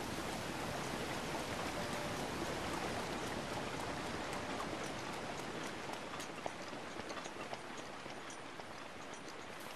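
Steady rain falls in The Legend of Zelda: Breath of the Wild, a dense, even hiss of drops that runs unbroken throughout, soft and constant with no talk over it.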